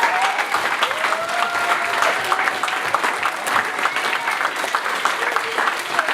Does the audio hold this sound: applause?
yes